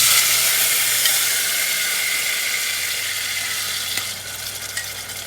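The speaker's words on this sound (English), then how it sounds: "So once the oil has heated up, what I'm going to do is I'm going to add in my tomatoes" Tomatoes hit hot oil for egg drop soup, setting off a loud, close, continuous sizzle that eases slightly over time, with a few faint stirring clicks near the end.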